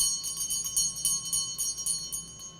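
A small bell, freshly repaired with thread tied inside, tinkles repeatedly in light, even shakes, its bright ringing tone sustained and fairly close with no speech.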